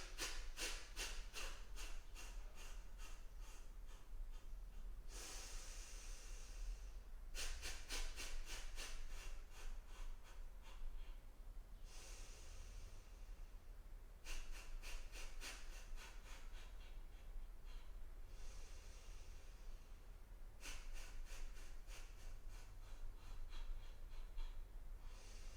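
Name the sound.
deep breathing exercise, inhaling and exhaling during yoga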